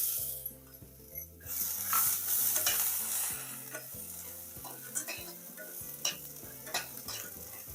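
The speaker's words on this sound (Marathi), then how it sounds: "आता वाटाणे भाजून घेते." Dried peas dry-roasting in a pan rattle and scrape as they are stirred, with repeated clicking knocks over a steady hiss and a low hum underneath.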